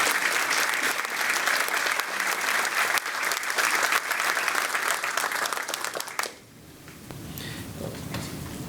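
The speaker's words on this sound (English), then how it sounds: "giving them one last final, very large round of applause" A school board meeting audience gives sustained, loud applause that cuts off abruptly near the end, leaving quiet room noise and faint murmuring behind.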